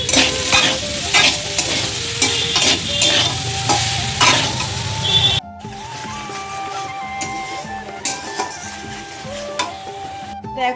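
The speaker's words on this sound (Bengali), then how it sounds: "কারণ সয়াবিনটাও ভালো করে ভেজে দেবো" Soybean chunks fry with already browned potatoes in a pan, a loud close sizzle with scraping stirs that drops abruptly midway to a quieter crackle with faint clinks.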